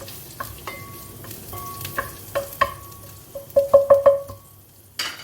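Butter sizzles in a pan as the base for chicken tinola, with a run of sharp metallic clinks and scrapes of a utensil against the cookware over a soft frying hiss.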